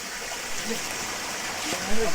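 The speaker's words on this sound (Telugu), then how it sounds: "ఫ్లోటింగ్ వాటర్ ఫాల్, చిన్న వాటర్ ఫాల్స్ అనమాట." A small waterfall on a village stream gives a steady broad rush of flowing water, continuous and fairly close, with a faint splash near the end.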